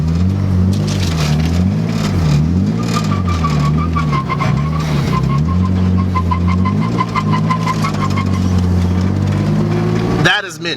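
BMW E36 M3 fitted with an angle kit swings through a drifting U-turn on a narrow one-lane road, engine loud and close, revving up and down with rising and falling pitch, tyres scrubbing throughout.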